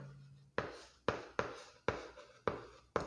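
A marker or chalk writing on a classroom board during a physics lesson, six distinct scratchy strokes in an uneven rhythm, close and crisp, with quiet gaps between them and no talking.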